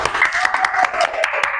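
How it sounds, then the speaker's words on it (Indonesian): A group of students in a classroom claps together in a quick, fairly steady rhythm of sharp claps for about two seconds, close and loud, cheering on their classmates. "Oke, kasih tepuk semangat nih buat teman-teman kita semua."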